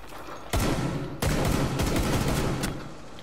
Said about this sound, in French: ça explose de partout